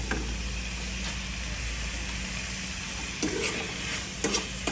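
Mung beans with chicharon being sautéed for ginisang munggo sizzle steadily and close by, with a few sharp utensil scrapes and clanks toward the end.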